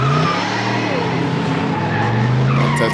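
A car skids with a sustained squeal of tires and a roaring engine in a 1980s time-travel film scene, loud and continuous throughout, with voices faintly beneath.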